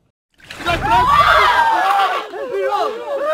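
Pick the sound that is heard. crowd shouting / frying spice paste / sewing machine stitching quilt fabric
crowd shouting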